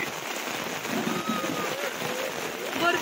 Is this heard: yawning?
no